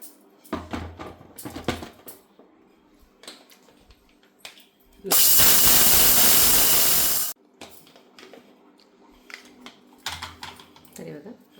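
A mixer grinder grinding wheat whirs in one loud, continuous burst of roughly two seconds, framed by scattered clatter and handling noises and a voice speaking before and after.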